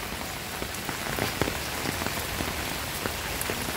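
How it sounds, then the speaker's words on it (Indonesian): Steady rain pattering on a surface, with scattered distinct drops ticking through a constant wash; no voices. "Alhamdulillah hujan"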